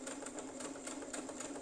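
A sewing machine stitches fabric under a beginner's hand guidance, a quiet, steady mechanical whir with faint rhythmic ticks running through the whole short stretch, with no talking.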